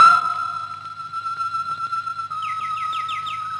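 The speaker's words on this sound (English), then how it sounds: "why don't you go into the aviary? Listen to the birds for a while" Birds singing in an aviary: a few quick chirping calls rise over a steady, sustained whistle-like tone near the end, fairly close and clear, with no talking.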